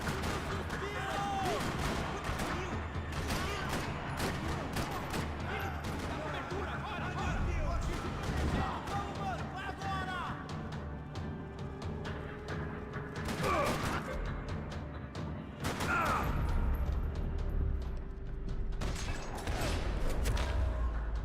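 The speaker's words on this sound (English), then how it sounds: "Another parking lot rattling with gunfire." Gunfire rattling through a parking lot in the Max Payne 3 video game, with repeated sharp shots and bursts over a busy backdrop of mechanical clatter and effects, along with some speech.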